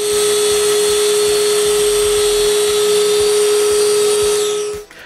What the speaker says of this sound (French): puis percer un trou pour le domino